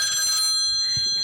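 A telephone rings with a bright, warbling electronic tone through the first half second, then fades under a quiet room, in a comedy sketch.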